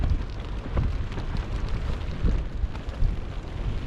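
Light rain falls steadily on the Humber shore during a cold sea-fishing session just after snow, a dense, even patter across the whole stretch with low wind rumble beneath and no voices.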